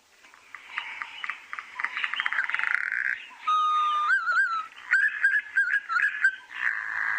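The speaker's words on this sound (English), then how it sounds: "the green pigeon's got a beautiful call" A recorded green pigeon call plays, a series of sweet, warbling whistles that rise and swoop in pitch, broken into rhythmic phrases with brief pauses, clear and moderately loud.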